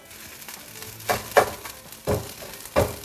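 Scrambled eggs sizzling in a frying pan, a soft steady fry with four louder scraping stirs spaced about a second apart, close and alone without talk.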